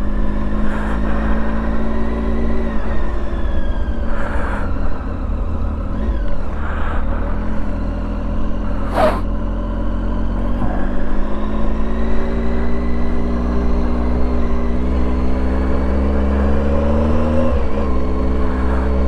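Triumph Tiger 800 motorcycle riding along a road, a steady loud engine drone with shifting pitch and rising and falling revs held throughout, plus passing wind noise.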